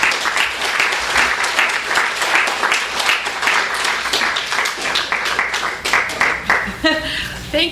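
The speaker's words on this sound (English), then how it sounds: "Can we get one more round of applause for David Ulin for leading?" Sustained applause from an audience at a literary magazine launch reading, dense and steady for several seconds before thinning into scattered claps, with voices mixed in near the end.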